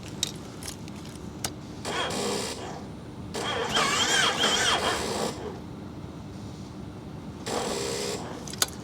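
A Yamaha Roadliner S motorcycle starter cranks in several short, labored bursts separated by pauses, sluggish and whirring from a flat battery, with clicks between attempts.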